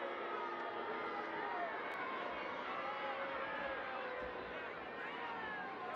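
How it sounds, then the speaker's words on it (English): A large soccer stadium crowd at a women's match murmurs and grumbles in a steady, dense wash of distant voices, displeased after a foul, with no single voice standing out. "The crowd doesn't like it"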